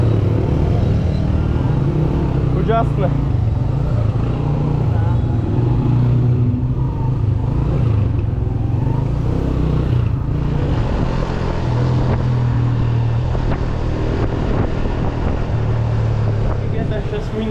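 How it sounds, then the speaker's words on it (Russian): Heavy road traffic in Pakistan keeps up a dense, loud rumble of engines, motorcycles and passing vehicles with horn-like tones, while people talk over it nearly throughout. "теперь очень много пробка здесь"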